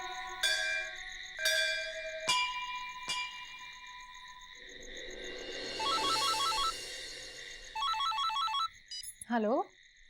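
A telephone rings insistently late at night, its bright electronic trills repeating in bursts over a faint background drone, with crickets chirping and a few sharp chimes scattered through the scene.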